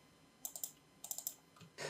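Typing on a computer keyboard while filling in details, heard as two quick bursts of three or four crisp clicks each and a final heavier tap, close and quiet against near silence.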